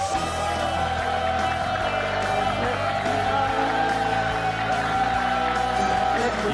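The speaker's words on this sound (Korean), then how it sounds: "여러분 큰 박수로 환영해 주십시오" A studio audience on a Korean government policy talk show applauds to welcome the environment minister, a dense, steady wash of clapping that runs unbroken and fairly loud from start to finish.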